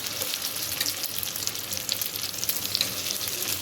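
Chicken shami kebabs frying in oil in a pan give a steady, close crackling sizzle with small pops throughout and no voices.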